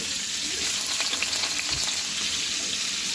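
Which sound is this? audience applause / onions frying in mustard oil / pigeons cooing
onions frying in mustard oil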